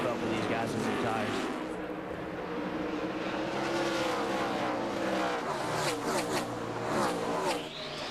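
NASCAR race cars in the 2004 Bashas Supermarkets 200 roar past on the track, a continuous loud engine drone with pitch sweeps as cars go by, under steady commentary talk.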